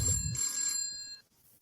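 A telephone rings with an incoming call on a call-in show, one bright electronic ring burst close and loud before cutting off.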